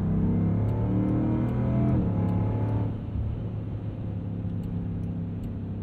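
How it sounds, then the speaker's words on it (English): A 2022 Land Rover Defender 90 V-8 sends out a raspy, rumbling exhaust note while driving, loud and steady at first, then settling into a lower, quieter drone partway through. No voices are present. "And it is a raspy exhaust note that you get from this Defender 90"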